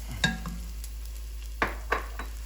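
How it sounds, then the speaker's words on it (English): Garlic dropped into a preheated pan with two tablespoons of oil, heard as a few scattered crackling sizzle bursts and light stirring scrapes, quiet and close with no talk. "I have a pan preheated with 2 tablespoons of oil, and I'm adding some garlic to sweat"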